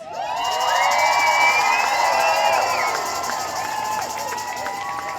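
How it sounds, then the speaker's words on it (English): A large crowd cheering loudly at an outdoor women's march rally, with many overlapping whoops and high shouts over a continuous roar of applause that fades slightly toward the end. "So give yourselves a round of applause"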